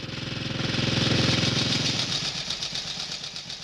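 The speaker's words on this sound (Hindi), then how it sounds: "कोई बाइक पर आया है लगता है।" A motorcycle engine pulls up close and loud, its throbbing rumble strong at first, then easing to a softer pulsing idle as the bike arrives.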